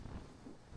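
Low, rumbling wind in Morocco's Atlas Mountains buffets the microphone in a steady roar for under a second, with no other sounds coming through.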